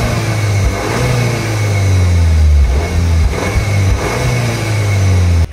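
A Cupra Formentor 250 hp accelerates with its exhaust popping, a loud, steady engine drone rising and dipping in pulses, close by with no voices, ending in a sharp crack.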